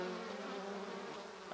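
Bees clinging in a mass to a honeycomb make a dense, steady, close-up drone with no voices over it.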